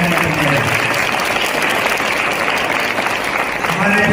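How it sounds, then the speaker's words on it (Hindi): An audience at a Republic Day celebration at MSVH NIEPVD in Dehradun, Uttarakhand, gives loud, dense applause that carries on steadily throughout, with some voices mixed in. "एक बार जोरदार ताली हमारे बीच"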